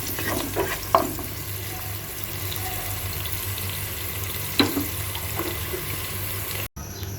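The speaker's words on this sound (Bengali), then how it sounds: "পেঁয়াজটা কাঁচা লঙ্কার সাথে একটু ভাজা ভাজা করে নিচ্ছি" Onion and green chilli frying gently in a pan, a steady soft sizzle with occasional stirring clinks and scrapes, close and unbroken, no voices.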